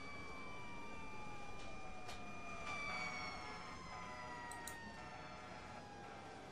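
A police car siren in the video game 911 First Responders wails with sweeping, wavering tones over a steady background rumble, holding at moderate volume throughout.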